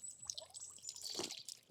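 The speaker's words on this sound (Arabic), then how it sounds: "والحنفيات ديت بتنزل مية" River-fed tap pouring ice-cold water outdoors in Switzerland, a short bright splashing trickle with a stronger gush near the end, fairly close and without talk.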